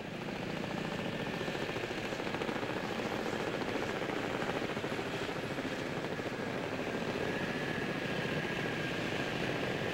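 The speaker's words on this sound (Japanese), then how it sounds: "ジープを機外にホイストで吊るして軌道展開するバートル H46 ヘリコプター" A steady, continuous tandem-rotor Vertol H-46 helicopter rotor and engine roar holds at an even level throughout, with no voices.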